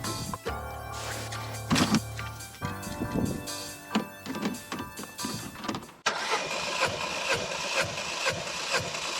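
An old Ford engine cranks with the starter during a compression test, turning over in a steady rhythmic chug for several seconds before a louder, denser engine noise takes over near the end.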